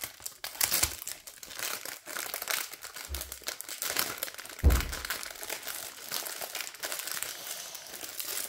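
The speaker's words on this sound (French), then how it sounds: "J'ai carrément dû démolir tout le plastique" Plastic wrapping on a 30 by 40 diamond painting canvas crinkles and crackles steadily as it is torn open, close by, with two brief low thumps partway through.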